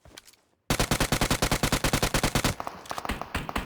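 A UMP submachine gun in PUBG Mobile fires a loud, close, sustained automatic burst of rapid, evenly spaced shots, followed by a few slower, scattered shots.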